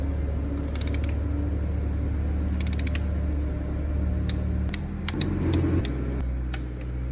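A torque wrench works new spark plugs on a BMW M54B30 engine, giving creaking mechanical turns and a few sharp clicks toward the end, close up with no talking.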